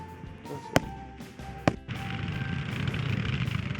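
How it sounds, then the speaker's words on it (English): Two sharp firework bangs ring out a second apart, followed by a crackling, hissing burst that fills the rest of the clip, at moderate distance. "Upstairs fireworks are interesting this year"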